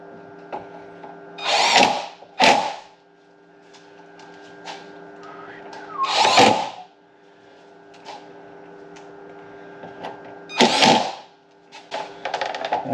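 Power drill spinning out cover screws on a BMW E83 with the M54 engine, in several short, loud whirring bursts separated by pauses, close by and without talk.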